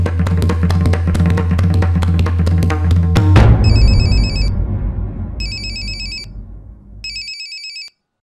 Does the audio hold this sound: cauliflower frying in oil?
no